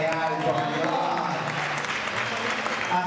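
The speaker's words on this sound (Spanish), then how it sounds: "Un aplauso para" Applause for a colleague's birthday breaks out at a small gathering, a dense steady patter of hands clapping throughout with speech-like tones mixed in.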